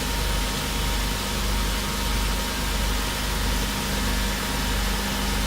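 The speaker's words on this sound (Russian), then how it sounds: "Во время работы со станком необходимо следить за положением ленты." A belt grinding and edge-sharpening machine with its water feed running gives a steady, loud drone of motor hum and broadband hiss. It stays even and unbroken throughout, with no speech.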